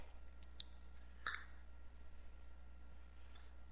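A few faint computer mouse clicks, two close together and then one more, over a quiet steady hum while a Firefox add-on is installed, with no voices.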